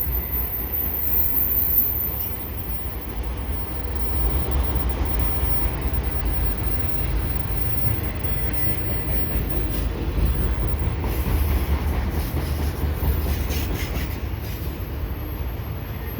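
An eastbound CN mixed freight train with tank cars rolls past at Dorval in fall, a steady close rumble of wheels on rails with faint wheel squeal, loud and unbroken throughout.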